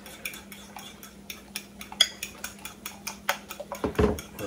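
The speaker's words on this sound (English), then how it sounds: "we're gonna start beating the eggs, all right? We're gonna beat the eggs." Eggs beaten with a fork or whisk in a bowl for spaghetti carbonara make a quick run of rhythmic clinking taps against the bowl, close and clear, speeding up toward the end with no talking.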